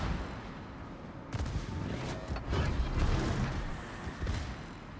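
Warship guns firing in a naval battle game, a sudden loud salvo of heavy, rumbling shots that swells and fades over a few seconds, fairly muted overall.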